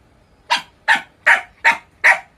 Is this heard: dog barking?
yes